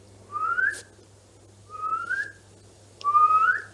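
Three separate rising whistled tones, each lasting under a second with short pauses between, made by a human voice imitating the expiratory wheeze of asthma from a narrowed airway.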